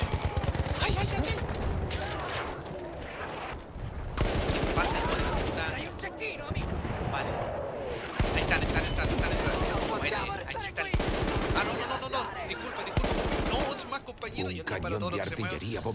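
Battlefield 1 gunfire during an Italian campaign mission assaulting a church, with dense bursts of machine-gun and rifle fire in near-continuous rapid volleys, broken by brief pauses, under faint background voices.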